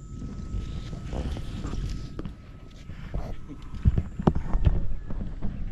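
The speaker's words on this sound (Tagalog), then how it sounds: "May kabayo pa, may bisiro pa" Hooves clip-clop in an uneven walking rhythm near a lakeside fishing spot at Taal Lake, growing louder toward the end, with wind and people chatting over them.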